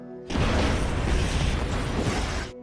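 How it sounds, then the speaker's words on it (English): A huge explosion destroys a ferry in a movie scene: a loud, dense, rumbling blast that bursts in sharply and roars steadily for about two seconds before cutting off, with no voices. "a huge explosion turns the ferry to ashes"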